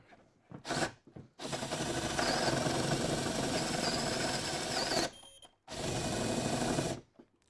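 A CNC router with a 35mm tungsten bit bores cup hinge holes in plywood, a loud, close whine running steadily for several seconds, cutting out, then resuming after short pauses.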